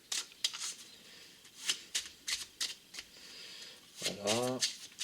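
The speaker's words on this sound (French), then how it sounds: "Ensuite, le magicien il va venir battre les cartes." A magician shuffling a deck of playing cards, a series of crisp riffling bursts close to the mic, followed by a brief voice near the end.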